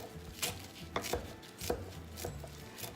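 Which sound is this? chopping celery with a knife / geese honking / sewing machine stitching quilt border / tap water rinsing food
chopping celery with a knife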